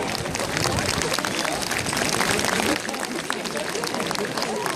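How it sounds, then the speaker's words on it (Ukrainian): A crowd applauding UPA veterans at an outdoor presidential address in Drohobych: dense, steady clapping from many hands fills the whole stretch, with murmur and voices blended in. "Давайте оплесками привітаємо наших ветеранів УПА"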